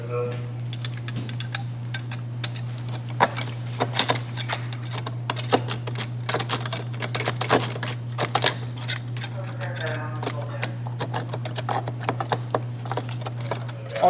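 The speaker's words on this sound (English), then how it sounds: "So we could take our hand saw, or hacksaw, and finish completing the cut." A hacksaw finishes cutting through a metal auger shaft during an auger entrapment technical rescue, giving fast, uneven scraping and clattering metal strokes close by over a steady low machine hum, with no talking.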